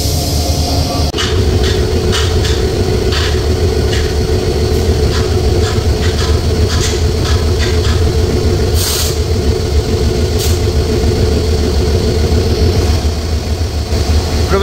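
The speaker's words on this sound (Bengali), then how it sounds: "আজকের লোকোমোটিভ, যেটা সুবর্ণ এক্সপ্রেসকে টেনে নিয়ে যাবে ঢাকা পর্যন্ত" A Hyundai Rotem meter-gauge locomotive, serial 3025, rumbles steadily at the head of the Suborno Express train, a loud continuous low drone with bursts of hiss and clatter throughout.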